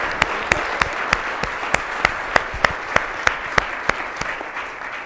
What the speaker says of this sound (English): Y'all make some noise for Kara Jackson